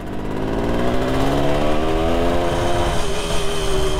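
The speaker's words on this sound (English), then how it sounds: "Going through the gears though nicely." A 1973 Kawasaki S2A 350 three-cylinder two-stroke motorcycle is ridden with a loud, buzzy engine note that climbs steadily in pitch as it pulls through a gear, heard close and continuous.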